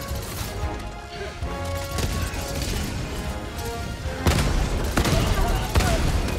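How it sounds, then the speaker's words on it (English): Rapid bursts of heavy autocannon fire and explosive impacts on a tank in a busy Helldivers 2 battle, loud and continuous, with voices talking underneath. "The auto cannon hurt the tank."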